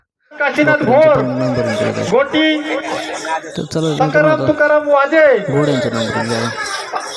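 A purebred horse at a village livestock exhibition lets out loud, close, wavering neighs and whinnies in repeated bursts, with people chattering and laughing nearby.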